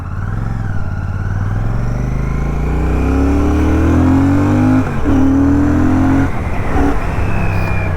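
Royal Enfield Classic 650 twin-cylinder motorcycle accelerating on an open road, its engine note climbing steadily through the gears, loud and close, with a short dip and gear change before pulling hard again.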